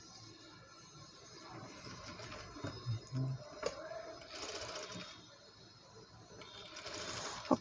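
A sewing machine stitches a baby blouse in quick, faint mechanical runs with brief pauses, under a quiet room.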